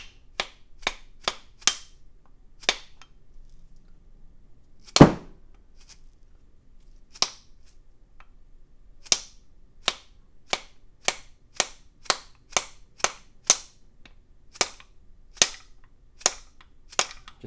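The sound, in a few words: tapping with a socket to knock out carbon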